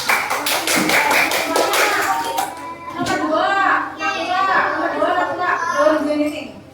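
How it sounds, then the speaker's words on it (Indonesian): Children in a primary school classroom clap together for a classmate, a quick burst of close hand claps that fades as a teacher and kids begin talking. "jadi kita terima tepuk tangan buat Syafiq"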